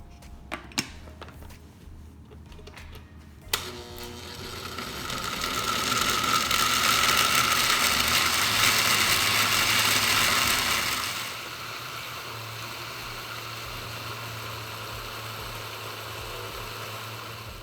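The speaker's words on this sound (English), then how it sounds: "now I'm going to blend it" A blender grinds frozen coconut with coconut milk in a kitchen: a few clicks and knocks, then a loud whirring motor roar that runs steadily for several seconds before dropping to a lower, quieter hum.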